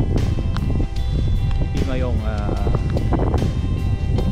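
Steady wind roars and buffets across the top of Mount Timayong in Zambales, with a person speaking over it throughout.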